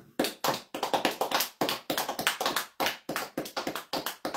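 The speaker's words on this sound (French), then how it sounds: "Est-ce qu'on peut applaudir pour Jésus?" A church congregation claps in unison, sharp and close, a steady rhythmic beat of roughly three claps per second that carries on for about four seconds with no talking.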